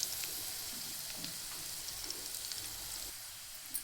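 Dried red chilies sizzle in hot oil alongside garlic and cumin, a steady hiss with small crackles and pops that stays fairly faint throughout, with no voices.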